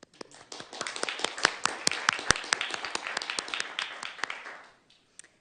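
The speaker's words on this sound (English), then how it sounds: "round of applause" A small group applauds at a city council meeting, a few seconds of dense, moderately loud clapping that thins out and stops, with a single late clap at the end.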